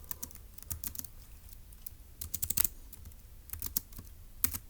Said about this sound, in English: let's go ahead and type that up in our notes for section B